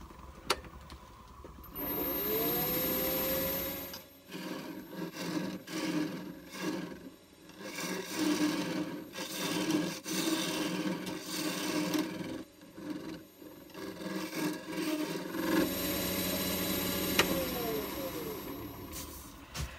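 Light, shallow facing cuts on a wooden workpiece with a powered cutter: a close, steady motor whine that rises and falls in pitch, overlaid with rasping, scraping bursts as the cutter meets the wood.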